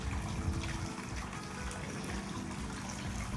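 Very cold water from the Peerless Spring in Saratoga Springs flows and splashes steadily, a continuous close gushing rush with no voices.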